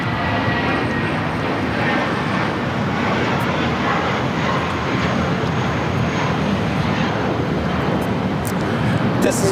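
JetBlue Airways Airbus A320 in Brooklyn Nets livery taking off from LAX for Los Cabos: a steady, loud broadband jet roar that holds for the whole stretch, heard from a distance with faint background chatter.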